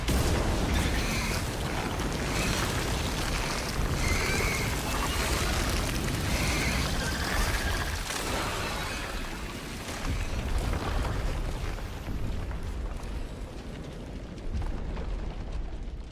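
A huge explosion in the Resident Evil Requiem video game rolls out as a long, dense, roaring rumble with a crackling hiss, sustained and loud for many seconds before slowly thinning out.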